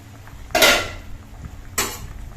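A metal lid lifted off a pan of okra and potatoes cooking on the stove, heard as two short clanks or scrapes about a second apart, close and moderately loud over a quiet background.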